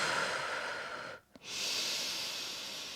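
Steady breathing during an intermediate pilates core workout, a long airy exhale that fades into a brief pause, then a sharp short sniff before another sustained breath, close and alone without talk.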